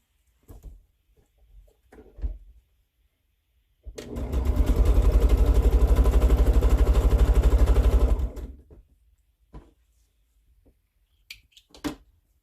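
A home sewing machine stitches quarter-square triangle quilt pieces onto the center row of a baby quilt in one steady, continuous run of rapid needle strokes lasting about four seconds, with quiet handling noises before and after.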